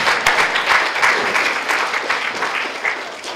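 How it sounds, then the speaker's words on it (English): Audience applause at a conference on tackling waste in construction and demolition, a steady dense clapping that continues evenly throughout. "So for those main case studies, just a big round of applause."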